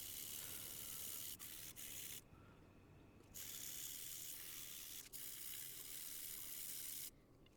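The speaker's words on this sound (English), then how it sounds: "eventually I just set up the belt sander and removed a good bit of material." A belt sander grinds steadily on a guitar nut in close, loud rasping bursts, briefly cutting out a few times before resuming.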